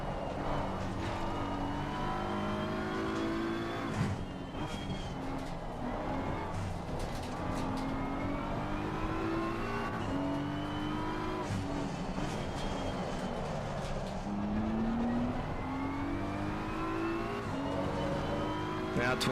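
A race car engine in a VR sim racing game at Zandvoort revs continuously through gear changes, its pitch climbing and dropping in repeated sweeps, loud and steady, with some faint talk underneath.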